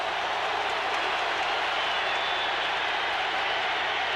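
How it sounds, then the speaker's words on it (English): A dense, continuous roar from a stadium crowd at a college football game in Tuscaloosa between LSU and Alabama, loud and steady without a break. "Hard to be heard with the roar of the crowd in Tuscaloosa."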